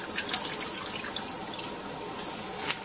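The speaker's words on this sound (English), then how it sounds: "I am going to just put in my horta, which I rinsed off and I have sitting in some cold water." Rinsed dandelion greens (horta) lifted from a bowl of cold water into a pot, with close trickling, dripping and splashing water over a steady wet hiss, fairly loud and with no voices.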